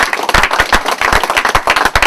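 An audience at a teen open mic and talent showcase claps in quick, dense bursts, loud and close throughout.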